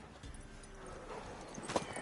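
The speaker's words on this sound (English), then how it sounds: "Worthy of the best horse. The mare is yours." A mare's hooves clip-clop in The Witcher 3, a soft, irregular clatter of steps under a low game ambience, with one sharper hoof strike near the end.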